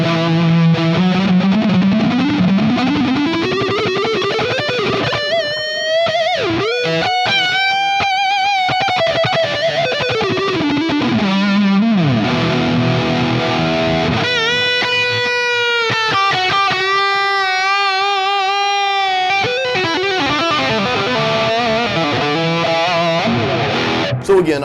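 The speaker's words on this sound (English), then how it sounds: "I'm gonna turn this distortion up not quite halfway, and let's see what this does for our guitar solos" An electric guitar solo played through an MXR Classic Distortion pedal into an EVH 5153 amp, with sustained, heavily distorted lead notes, bends and fast runs. It is loud and clear throughout, with no talking.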